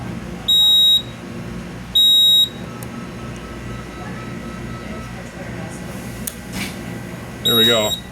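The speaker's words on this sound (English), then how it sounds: "We got an alarm now." Panel alarm on an SK-5207 fire alarm panel sounds as sharp electronic beeps, three loud bursts about a second long with gaps between, over a noisy room background with some movement.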